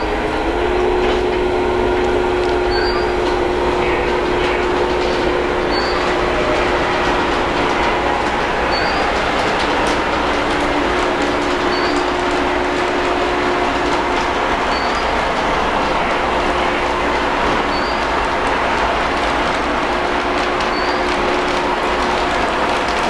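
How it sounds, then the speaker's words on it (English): Model diesel locomotive running along its track with the sound turned up: a continuous rumbling engine drone with faint periodic clicks from the rails, steady and close, no talking. "we've had a little fun with the diesel locomotive"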